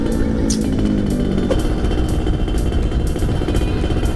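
Yamaha F1ZR two-stroke motorcycle with a custom Millea exhaust, running continuously with a steady, loud engine drone and a slight rattle, heard from up close while riding.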